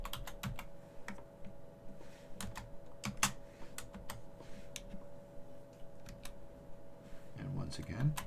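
A password is typed on a computer keyboard, producing quiet, scattered key clicks in irregular bursts, close by, with a faint steady hum underneath.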